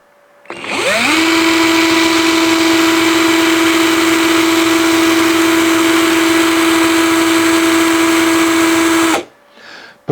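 A cordless drill-driver spins a homemade three-phase generator, whining up to a steady high-pitched motor tone within a second, holding it for about eight seconds, then stopping abruptly, loud and close.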